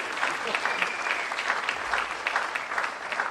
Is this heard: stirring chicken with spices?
no